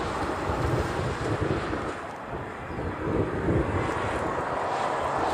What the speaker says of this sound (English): It's a little windy today if you haven't noticed it.